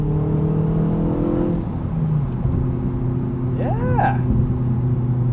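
A 2019 Hyundai Veloster Turbo R-Spec with a six-speed manual drones steadily from inside the cabin, its engine note shifting in pitch as it pulls, while someone speaks briefly over it.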